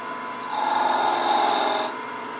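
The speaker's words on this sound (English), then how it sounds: "I'm going to use a detail spindle gouge" A rasping, scraping cut swells for about a second and a half over a steady hum as a detail spindle gouge shaves beads into wood on a spinning lathe.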